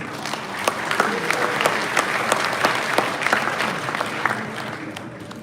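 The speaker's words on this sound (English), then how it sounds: "Yeah, round of applause for Nancy." A crowd at a Hot Wheels collectors' convention finale applauds a prize winner called up by ticket number, steady dense clapping with scattered sharper claps and a few faint voices, sustained throughout.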